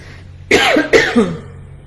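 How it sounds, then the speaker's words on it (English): A person coughs twice in quick succession, loud and close, followed by a brief throaty trailing sound. "Excuse me, I'm going to cough."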